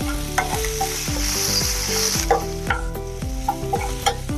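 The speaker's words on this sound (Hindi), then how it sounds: "अदरक, लहसुन, हरी मिर्च और जीरे का पेस्ट। इसको भी थोड़ा देर भुनेंगे।" Ginger, garlic, green chili and cumin paste frying in a pan, with a steady close sizzle broken by a regular rhythm of spoon stirring and scraping strokes throughout.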